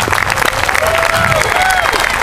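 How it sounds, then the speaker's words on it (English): A concert band audience gives loud, sustained applause, a dense wash of many hands clapping together that continues without a break. "Give them a great big round of applause."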